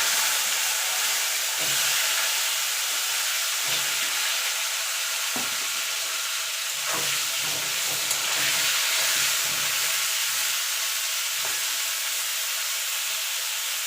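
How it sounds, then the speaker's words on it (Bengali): Raw cauliflower pieces fry in hot oil for a koi fish curry, a loud, continuous close-up sizzle and hiss with occasional soft stirring knocks, no speech over it. "এবার কপিটা ভেজে তুলে নেবো"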